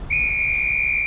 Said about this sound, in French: Je viens juste de siffler pour signaler le but.